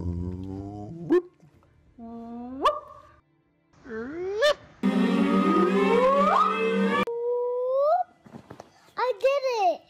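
Several people take turns vocally imitating a gravitational wave chirp, each voice sweeping upward in pitch with rising whoops, one long buzzy swooping attempt in the middle, some childlike voices among them.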